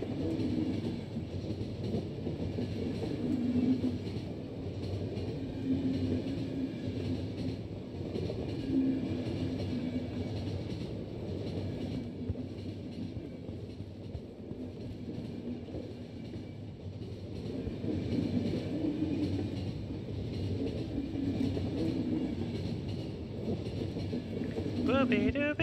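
A train rumbles steadily along in the video game The Final Station, a continuous low drone with faint clattering that persists throughout, with a voice occasionally speaking over it.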